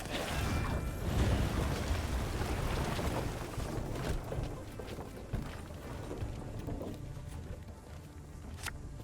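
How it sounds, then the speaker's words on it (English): Torrential rain effect from the video game Thronebreaker: The Witcher Tales, a dense, continuous wash of heavy downpour with a deep rumbling undertone and a few faint clicks, steady and full throughout. "Torrential rain."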